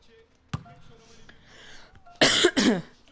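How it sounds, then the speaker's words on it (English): A man coughs in a few sharp bursts: a single quick cough, then two loud harsh coughs close together near the end, heard alone with no talk. "Can't stop coughing at the minute."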